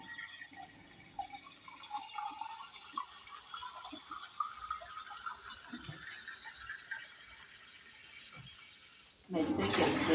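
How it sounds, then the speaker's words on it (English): Water poured from a glass into a cooking pot of rice and potatoes for pilau, a light splashing trickle running steadily for several seconds at close range before a louder burst near the end. "now I have to measure my water because I don't want to put cold water on my rice"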